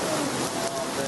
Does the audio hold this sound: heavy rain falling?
yes